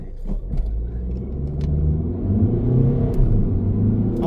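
An Alfa Romeo Giulietta's engine hums as the car drives with a smooth-shifting gearbox, producing a steady, fairly loud low rumble that swells slightly over several seconds, with no voices.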